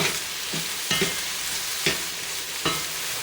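Food stir-frying in a stainless steel skillet over medium heat, a steady soft sizzle broken by four scraping stirs spaced about a second apart, close and alone with no talk.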